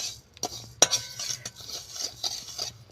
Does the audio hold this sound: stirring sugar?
yes